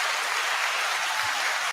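A short burst of crowd applause used as a sound effect, thick and continuous clapping at constant level that stops suddenly.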